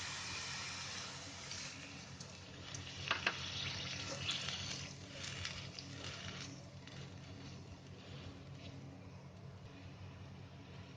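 Chicken stock and water pour into a pan of fried paste for chicken rezala, a faint continuous splashing gush with a soft sizzle underneath, low and even throughout.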